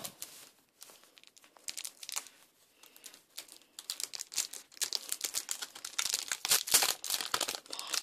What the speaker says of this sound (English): Take off the plastic,